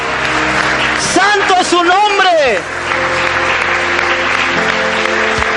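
A church congregation applauds steadily throughout, loud and close, while a voice shouts a short exclamation over the clapping near the start.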